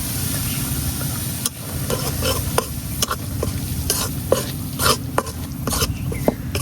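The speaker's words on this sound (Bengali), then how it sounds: "প্রথমে বেসনটা দিয়ে এনে ভাজা নিলাম" Gram flour frying with dal in a pan, a loud continuous sizzle with regular sharp spatula scrapes and taps against the pan at a steady stirring rhythm.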